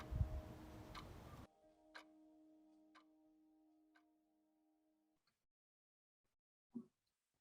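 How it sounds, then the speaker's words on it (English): Near the start of a film, a clock ticks slowly and faintly in a few spaced ticks over a low sustained tone, which fades out. After a pause, a soft thud follows. "this film follows the sound of clock ticking in the beginning"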